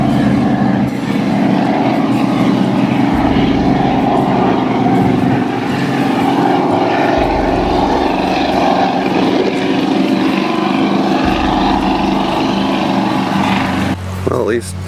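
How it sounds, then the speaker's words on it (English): Loud motorboat droning steadily across a lake at a campground, its engine rumble filling the whole stretch, with voices talking over it. "Here comes this obnoxious freaking boat."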